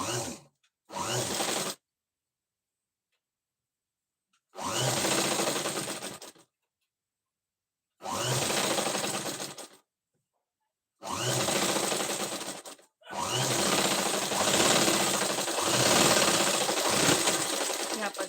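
Sewing machine top-stitching a princess cut blouse, running in several separate bursts with short silent pauses between them, then a longer continuous stretch of steady stitching near the end.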